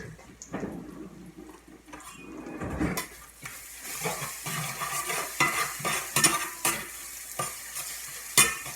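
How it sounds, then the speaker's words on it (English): Scrambled eggs hit hot bacon grease in a pan and frying crackles erupt, with scraping stirring and utensil clatter; quiet at first, then busier, uneven sizzle and clinks to the end. "dumping scrambled eggs in the hot bacon grease, it pretty much cooks instantly"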